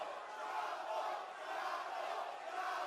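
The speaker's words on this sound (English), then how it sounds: "Crowd screaming Chapo" Crowd screaming at an RUF 65 amateur MMA fight, a distant continuous roar of many voices yelling in an arena, fairly faint and steady with small swells.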